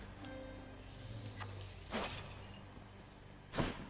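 Breakable objects smashing in Hades, with two distinct crisp shattering crashes and a fainter earlier one over a quiet background.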